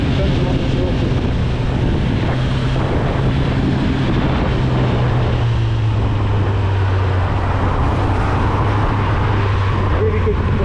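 A 2025 Kawasaki Z900 ABS motorcycle hums along on a ride toward Ilford town, its steady engine drone blending with loud, constant wind rush against the microphone, and the pitch shifting slightly midway.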